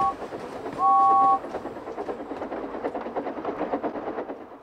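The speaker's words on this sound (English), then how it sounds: "So steam engines blow their whistles." A short two-tone steam locomotive whistle sounds once above the rhythmic chugging and clatter of a moving steam train.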